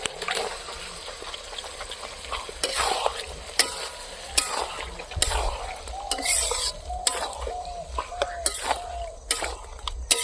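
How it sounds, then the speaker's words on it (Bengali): Pork meat dropped into a hot pan with green chillies, sizzling steadily up close while a spoon clatters and scrapes against the metal in irregular bursts, with some faint talking. "এখন মাংসগুলো দিয়ে দেবো।"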